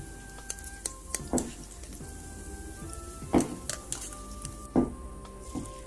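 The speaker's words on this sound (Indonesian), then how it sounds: "Udahnya panaskan minyak, baru itu goreng tempenya. Goreng tempenya nanti sampai setengah garing ya." Tempe frying in hot oil in a home kitchen, a quiet, crackling sizzle broken by scattered pops and a few sharper bursts as pieces hit the oil.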